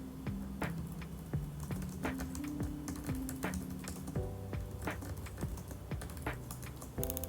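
Steady fingers tap across a computer keyboard at an even pace, a continuous run of close, crisp keystrokes with no voice over them.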